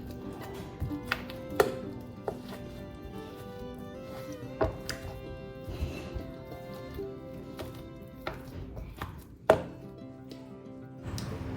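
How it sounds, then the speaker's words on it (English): A knife chops mutton pieces into small bits on a board, making scattered thuds at an uneven pace, close and fairly quiet, with one louder strike near the end. "here I'm cutting the mutton pieces into small"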